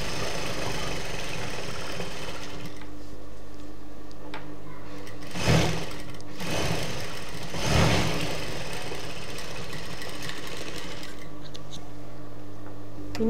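A sewing machine runs steadily while stitching churidar pant fabric, a continuous mechanical whir that holds close and even throughout, with two brief louder bumps partway through.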